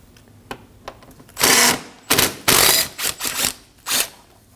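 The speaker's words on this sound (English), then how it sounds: "we can go ahead and remove the 10mm bolt holding on our transmission cooler line" Ratchet backing out a 10mm bolt on the transmission cooler line of a 2015-2024 Ford Edge 2.0L: faint clicking followed by several loud, close bursts of rapid ratcheting, each lasting under a second, with brief pauses between.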